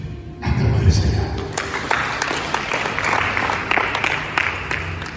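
A church congregation at a Sunday service breaks into applause after a short silence, with sustained, dense clapping and a few cheers and voices mixed in, filling the room and carrying on to the end.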